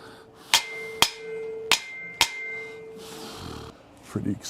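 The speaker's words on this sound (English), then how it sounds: "So I might need a little convincing with a hammer." A hammer taps a part into place on a VEVOR drywall lift, four crisp, ringing metallic strikes spaced about half a second apart. Softer handling noises follow the strikes.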